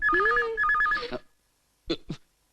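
An old-style telephone bell rings in two warbling bursts, loud and close, with a low voice underneath the first part, then two short knocks or clicks after a pause of silence.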